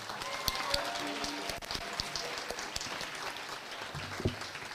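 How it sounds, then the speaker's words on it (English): Audience applause at a school speech night honours all participating students, a steady, moderately distant patter of clapping with a few sharper claps and some background voices. "One final round of applause for everybody who participated."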